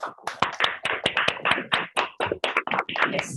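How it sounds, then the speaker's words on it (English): Online participants in a public speaking competition's closing ceremony clap for the contestants: a few people clapping unevenly, near and crisp, with no talk. "maybe all of us can unmute for 1 minute and just clap for each of the contestants"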